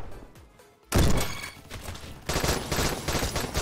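Video game gunfire bursts in abruptly after a quiet start, a loud rapid fusillade of shots that eases briefly and then surges again, with no talk over it.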